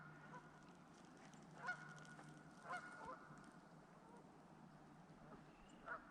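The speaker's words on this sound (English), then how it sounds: "We've got some geese over here." Geese honk intermittently at a distance, a few scattered calls over a quiet outdoor background by a pond at a wildlife refuge, with mallards nearby.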